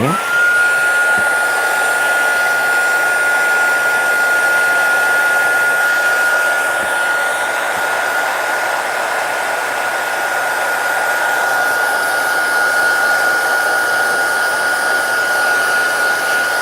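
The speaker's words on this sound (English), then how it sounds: "I do just want to quickly pop a little heat tool" A small crafting heat tool blows hot air over freshly stamped ink on white paper, a loud steady whirring drone with a high whine that runs unbroken from start to finish.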